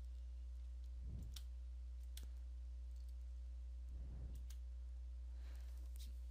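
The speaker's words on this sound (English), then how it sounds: "I'm going to hit enter on the keyboard" Two separate single clicks of a keyboard key, such as the Enter key, land a few seconds apart over a steady electrical hum, faint and sharp, with a few softer ticks around them.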